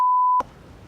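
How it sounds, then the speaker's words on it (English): A single steady censor bleep tone sounds alone for under half a second, cut off sharply and followed by faint low room noise. "Beep it out every time I say rugby?"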